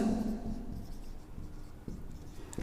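Writing on a board during a class 9 physics lesson on motion produces soft scratchy strokes and taps, close and fairly quiet, with no talking.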